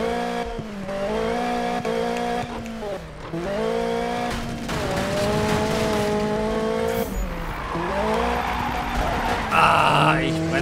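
Car drifting in the Need for Speed video game, engine revving with rising and falling pitch while tyres skid and screech through a tight street, loud and continuous, with a voice briefly reacting over it.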